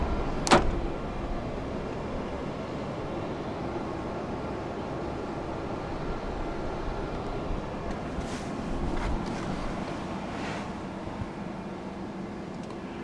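Door locks of a 2016 Kia Sportage 2.0 GT Line clunk once sharply at the start, followed by faint clicks and low cabin hum with nothing else prominent.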